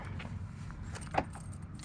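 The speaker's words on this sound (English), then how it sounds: "So I've got the key in my hand." Car keys for a 2017 Chevy Bolt EV Premier jangle briefly in a hand close by, a short soft metallic rattle with one sharper clink, no talking.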